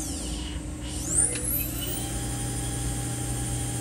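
The spindle of a 2010 HAAS OM-2 CNC vertical machining center with a 30K high-speed spindle whines steadily as it spins up to 20,000 RPM, a high rising tone sweeping upward over a constant mechanical hum.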